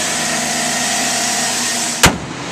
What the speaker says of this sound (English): This truck sounds great and it runs very smooth.